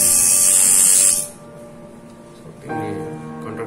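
Coil tattoo machine running with a steady electric buzz and a harsh high hiss that cuts off, followed by a quieter pause before the motor starts again with a humming drone.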